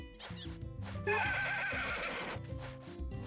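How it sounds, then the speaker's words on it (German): A horse in the farming video game Story of Seasons: A Wonderful Life gives a loud, shrill neigh lasting over a second, set against looping game music. "Das war das Pferd."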